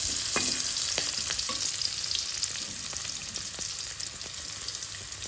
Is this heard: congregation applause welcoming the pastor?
no